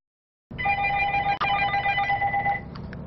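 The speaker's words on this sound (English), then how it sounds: "The phone has been ringing off the hook at Planet Nutrition" Telephone ringing in a nutrition supplement store, a close electronic trilling ring that starts abruptly and pulses for about two seconds before fading into quiet room noise.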